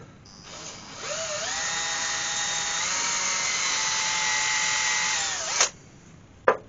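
A power drill boring holes at an angle into a wood-turning workpiece, spinning up with a rising whine, holding a steady high-pitched drone for about four seconds, then winding down, followed by a sharp knock.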